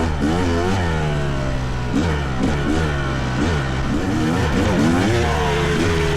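A Fantic XE300 motorcycle rides past close by. Its engine revs rise and fall repeatedly, loud and clear throughout, with no talk over it.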